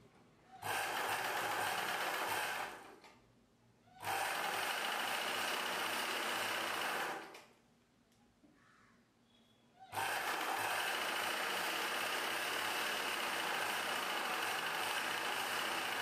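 A sewing machine stitching a poncho in a tailoring class, running in steady whirring bursts separated by short pauses, close and fairly loud.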